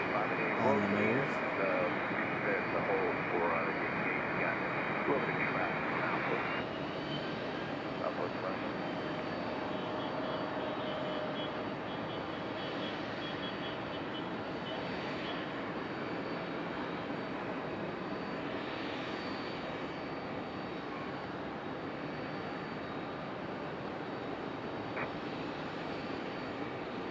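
A Republic Airways airliner taxiing at Raleigh-Durham International Airport, its engines a steady broad roar heard from a distance that holds at an even level throughout, with a brief louder tone near the start.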